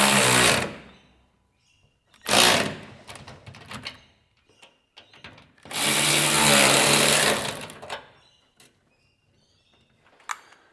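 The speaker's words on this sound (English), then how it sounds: "Get your 12mm again, do up the retaining bolts." A 12mm socket tool tightens the retaining bolts on a Detroit 750mm industrial wall fan, giving close, loud bursts of rapid mechanical whirring with quiet gaps between them.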